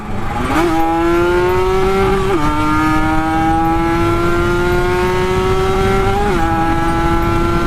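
A Kawasaki 150 two-stroke motorcycle accelerates hard, its loud close engine whine rising through the revs, dropping briefly at a gear change, then climbing steadily again with another shift near the end.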